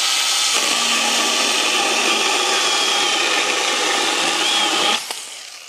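A Makita mini chainsaw cuts through wood in one loud, continuous, high-pitched whining buzz lasting about five seconds, then cuts off abruptly and winds down.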